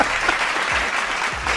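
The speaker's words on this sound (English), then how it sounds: "Clap it up for Keystone," A crowd applauding for someone at a Competition Tuesday show, dense continuous clapping that holds steady and close throughout.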